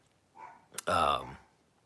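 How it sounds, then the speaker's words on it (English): A dog in a room during a live broadcast gives one loud, close bark, preceded by a faint whine and a sharp click, with quiet before and after. "He doesn't bark except when I go live."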